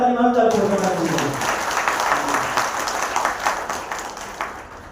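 Audience applause at a business plan presentation, a dense wash of clapping that fills the room and holds steady after a voice fades out at the start.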